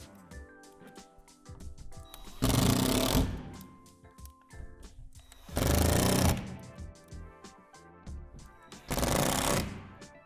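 A power drill drives screws into the plastic wall of a Lifetime utility shed in three loud, buzzing bursts a few seconds apart, with clicks and handling noises between them.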